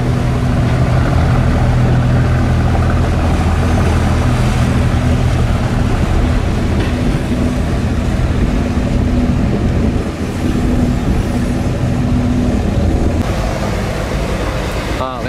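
A Long An wooden fishing boat, about 5 m wide and over 15 m long, runs its engine with a loud, steady diesel drone and throbbing low hum near Vung Tau, holding strong throughout with a slight change near the end.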